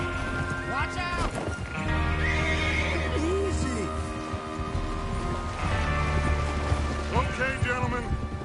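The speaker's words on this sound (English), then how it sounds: "Get your horses ready." Several horses whinny and neigh in a video game over a busy, music-laden background, with hoof clatter and voices mixed in throughout.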